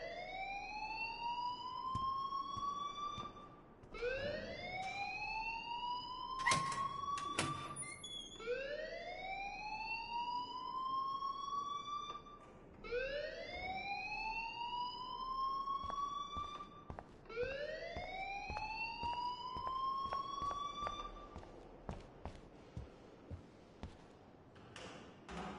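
An alarm wails in the video game Life Is Strange: a rising, siren-like tone repeating in steady cycles about every four seconds, with scattered taps and clicks underneath.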